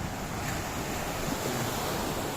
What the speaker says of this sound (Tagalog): Medyo malalaki lang yung alon kasi mahanin ngayon eh.